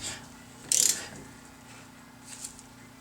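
A single short burst of ratchet clicks from a wrench on truck brake caliper bracket bolts, faint and close, followed by quiet shop ambience with a few light metallic taps.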